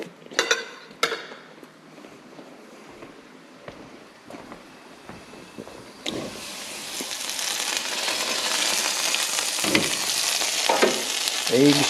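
An egg frying and sizzling in a pan, prodded and scraped with a small salad fork; a few clinks and taps at first, then a loud, steady sizzle fills the second half, up close with no talking.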